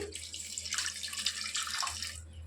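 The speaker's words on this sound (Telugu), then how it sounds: "ఇప్పుడు ఇందులో వాటర్ యాడ్ చేసుకోవాలి" Water pours in a steady, close stream for about two seconds, splashing softly into a shami kebab mixture before stopping.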